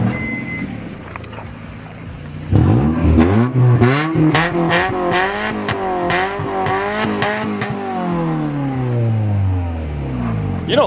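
A Nissan Skyline with a full catback exhaust, built toward 1000 horsepower, revs loudly and close up, a burst of repeated throttle blips rising and falling after a quiet idle-like opening.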